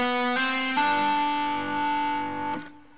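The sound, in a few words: electric guitar hammer-on exercise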